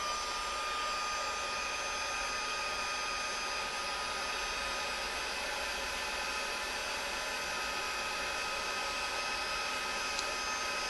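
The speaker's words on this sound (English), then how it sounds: "Let me grab my heat tool." A heat embossing tool blows hot air over a handmade Christmas card, a steady whooshing roar like a hair dryer that runs evenly and loud from start to finish, close up with no talking.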